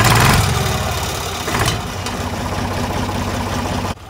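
A Deutz tractor engine runs before hay tedding, a loud, close diesel that revs briefly at the start, then settles into a steady rhythmic idle before cutting off abruptly near the end.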